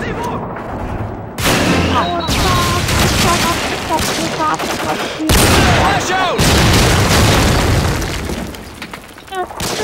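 A flashbang grenade bursts loud and close in a tactical shooter match, a sharp broadband blast followed by a ringing wash, with more blasts and game noise around it and voices underneath.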